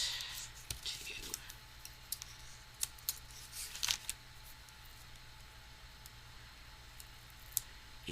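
Scissors trimming paper for a handmade shaker card give a series of soft, sharp snips and clicks, some close and crisp, scattered over a quiet background.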